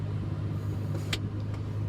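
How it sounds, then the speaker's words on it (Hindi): A Maruti Alto 800 idles with its air conditioning switched on, giving a steady, low engine hum and rumble throughout, with one brief sharp click near the middle. "ये चालू कर ली है मैंने गाड़ी, इसकी AC स्टार्ट कर दी है"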